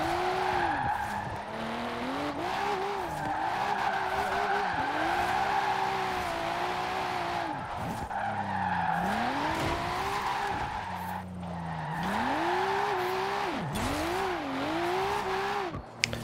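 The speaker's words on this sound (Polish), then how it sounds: "No ale już przejdźmy do samego driftowania," A Nissan Skyline GT-R V-Spec drifts in the Forza Horizon 4 racing game, its engine note rising and falling in repeated sweeps under continuous tire squeal and skidding, steady and moderately loud throughout with no speech.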